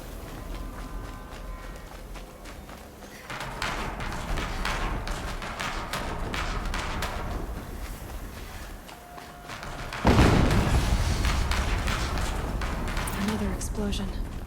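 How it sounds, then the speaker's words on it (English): Explosions from the Horizon Zero Dawn action game, a sudden loud, broadband blast near the ten-second mark after a rumbling, busy stretch of game effects and music. "Another explosion."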